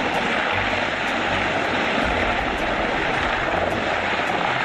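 A rescue helicopter flies near the edge of a high mountain, its engine and rotor making a loud, steady, close roar with a faint rhythmic beat throughout.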